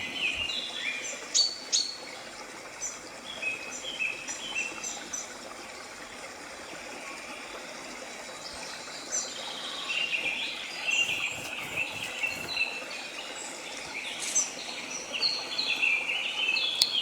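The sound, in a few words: birds singing outdoors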